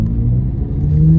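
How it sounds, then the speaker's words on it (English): A Chevrolet Corvette C8 Z06 engine rumbles loudly and close, with a deep throaty drone and a slight rise in pitch as it revs. "the car sounds really good, but just listen to it"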